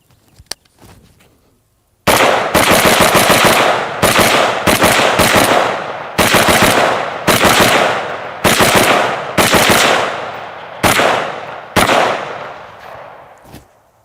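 A Houlding G2L carbon fiber AR-15 rifle with an aftermarket trigger fires rapid double taps outdoors, loud sharp bursts of paired shots in quick succession with brief pauses between strings.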